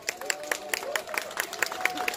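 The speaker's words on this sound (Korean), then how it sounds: "다시 한번 뜨거운 박수 부탁드립니다" Applause from the crowd at an outdoor press conference held in front of the Chinese embassy, a steady bed of many hands clapping with sharp, regular claps standing out near the front and a faint tonal hum running beneath.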